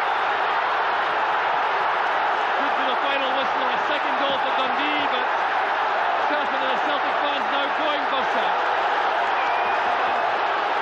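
Football crowd cheering at a 1986 St Mirren v Celtic match, a broad distant roar sustained throughout beneath a commentator talking.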